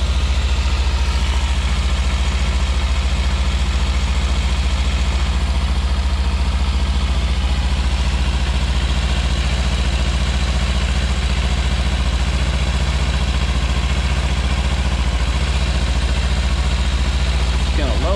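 A Kawasaki Ninja 300 motorcycle engine idles steadily and close up, a constant low rumble with an even, unbroken tone throughout.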